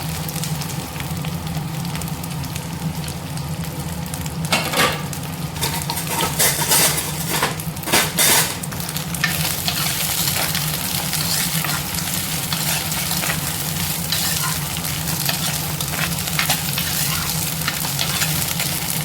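Chopped okra and other vegetables sautéing in oil for a sambar, a continuous close sizzle with occasional scrapes and clinks of a spoon stirring against the pan.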